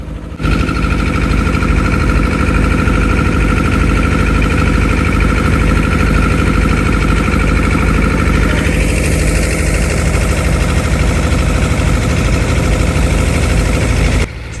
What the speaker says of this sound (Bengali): এই ট্রলারটিতে আমাদের ট্রলার থেকে ভিন্ন এবং শক্তিশালী ইঞ্জিন লাগানো